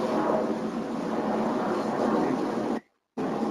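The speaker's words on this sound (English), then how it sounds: "that's a airplane going." An airplane passes overhead, heard as a broad, steady roar that holds at a moderate level before cutting out abruptly near the end.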